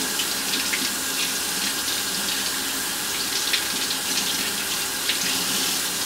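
Steady tap water runs over a large fresh fish fillet in a kitchen sink, a continuous close splashing gush with small flickers of spatter and no talk.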